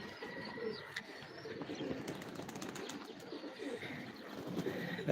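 Several pigeons coo softly nearby, with low rumbling calls and occasional wing flutters against faint outdoor background noise.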